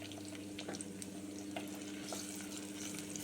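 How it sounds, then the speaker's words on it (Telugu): Onions fry in oil inside a clay pot, giving a quiet, even crackling hiss with soft stirring scrapes and light taps throughout, heard without any voices. "ఉల్లిపాయలు వేస్తున్నాను ఆయిల్లో."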